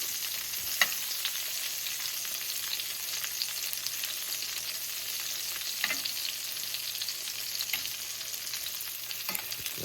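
Salmon fillet frying in butter in a pan with garlic and thyme, a steady close sizzle with soft crackles and occasional sharper pops, no voices.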